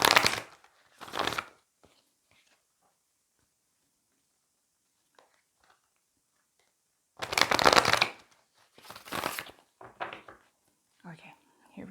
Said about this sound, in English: I'm going to shuffle again for that last card.